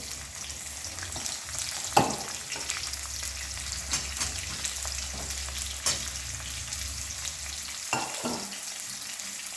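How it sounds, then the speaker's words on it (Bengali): Onions sizzle in ghee in a pan, a steady close crackle and hiss with occasional scrapes and clinks of stirring over nearly ten seconds. "পেঁয়াজটাকে আমি লাল লাল করে ভেজে নেব।"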